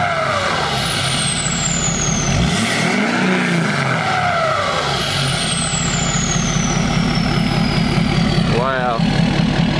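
A lifted Ford F-250 6.7 diesel pickup engine revs hard a couple of times, roaring up and dropping back, loud and close, with voices talking over it.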